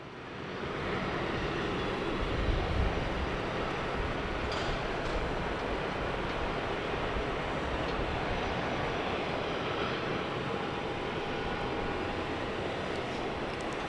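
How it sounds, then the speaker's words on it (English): A Qantas airliner takes off at Sydney Airport, a steady, broad engine roar that swells in the first second and then holds loud and even throughout, with a faint whine running above the rumble. "And Qantas is taking off now."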